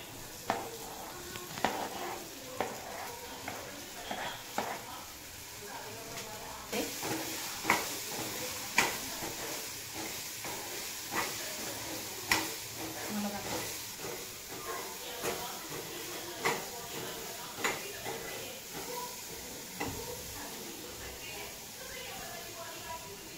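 Ridge gourd tossed into a hot pan already seasoned with coriander powder, giving a steady sizzle broken by repeated scraping stirs and small clatters over several seconds.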